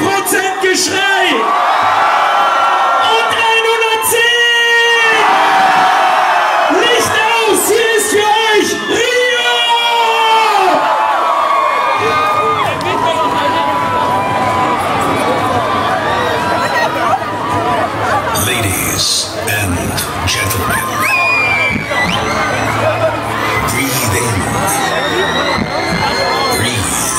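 The crowd at the Nachtwerk nightclub in Mülheim-Kärlich screams and cheers loudly, a roaring wall of voices that swells in bursts and holds for nearly half a minute, with an announcer's amplified voice calling out over it at times.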